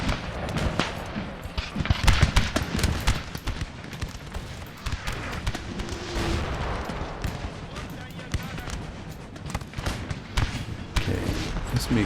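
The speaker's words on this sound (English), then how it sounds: "Musketeers back there are suffering from the artillery fire." Artillery fire pounds musketeers in the Napoleon: Total War battle game, a dense series of booming blasts and crackling volleys from a massed engagement, loud and continuous with talk over it.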